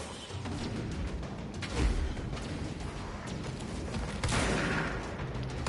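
Gunfire in the video game Control: muffled, distant shots and booms pop through a busy, noisy firefight, with two heavier bursts standing out.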